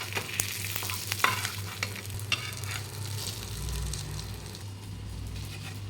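Kanangkeluthi fish frying in hot oil with curry leaves scattered in, a steady close sizzle with occasional sharp crackles and pops, no talking.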